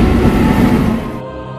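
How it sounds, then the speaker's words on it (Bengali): A train passes at night through Begunkodar railway station as a loud, close, broadband rumble lasting about a second before abruptly falling away to quieter tones. "এই রাত্রিবেলা এই ট্রেনটা দাঁড়াবে হয়তো"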